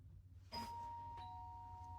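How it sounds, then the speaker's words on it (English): A two-note ding-dong doorbell chime sounds once, moderately loud and clear, its tones ringing on over a steady low household hum. "Oh, doorbell."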